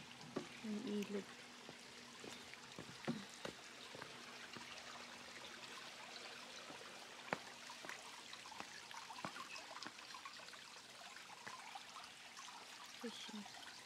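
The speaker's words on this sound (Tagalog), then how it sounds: "Stream lang siya." A small river stream in Hong Kong flows at low water after a long dry spell, giving a steady, soft trickling wash with a few faint splashes and clicks, heard alone without talk.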